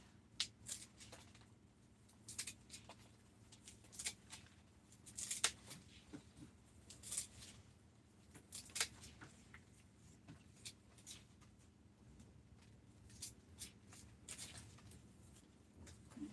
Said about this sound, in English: So let's cut some more of these roots off.